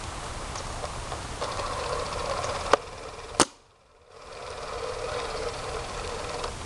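A Clone GT paintball marker fires two sharp pops a little under a second apart, punching through steady outdoor background noise that briefly drops out after the second shot.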